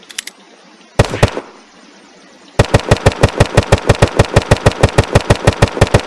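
Gunfire from a Western Front weapon in the video game Unturned, loud and close: a few quick shots, a short burst, then a long rapid automatic string of evenly spaced cracks.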